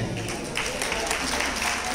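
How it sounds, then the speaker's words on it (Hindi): Audience applause at a Jain community stage show, a dense wash of clapping from a crowd filling the room, loud and sustained, with a voice partly under it. "आपने इतनी ताली बजाई,"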